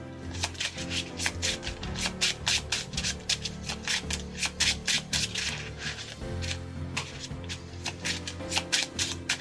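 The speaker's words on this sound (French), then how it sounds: "Je remets tout dans mon deck, puis je piocherai une carte." Cards are shuffled and slid back into a deck in a Yu-Gi-Oh duel, a rapid series of riffling, rubbing flicks repeating close up over a low background hum.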